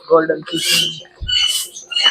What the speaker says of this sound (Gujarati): અને આ જો જાવા ચકલી